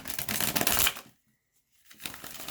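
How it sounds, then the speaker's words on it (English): Tarot cards are shuffled in two close bursts of quick riffling and flicking, with a short silence between them. "Mess up the shuffle."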